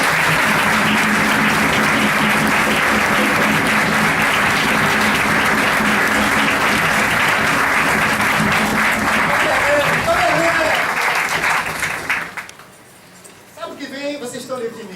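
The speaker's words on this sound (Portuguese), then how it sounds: "Eu vou pedir uma salva de palmas aqui para o Pai Valdo" Applause from an audience at a lecture, loud sustained clapping filling most of the clip before fading, followed by a voice speaking.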